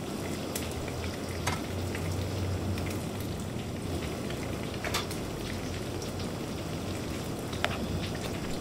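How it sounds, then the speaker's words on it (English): Steady, even sizzle of an egg frying in a pan inside the video game Heavy Rain, a continuous crackling hiss with occasional small pops, moderately quiet and unbroken by speech. "Can we like cook the egg now?"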